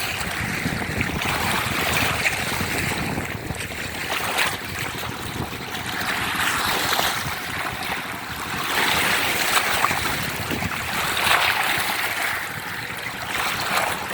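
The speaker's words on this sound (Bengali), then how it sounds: "দেখেন ঢেউগুলি কীভাবে পায়ের কাছে আসতে পড়তেছে" River waves at the Padma river ghat at Mainot, a continuous close wash of water rolling and breaking against the shore in slow surges, with wind noise and no talking.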